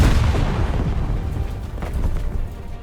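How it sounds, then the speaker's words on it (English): An aerial bomb explodes midair after an active protection system intercepts it in the tank combat game War Thunder, giving a loud, continuous low rumbling blast that rolls on for several seconds. "After interception, the bomb doesn't simply vanish, it explodes in midair"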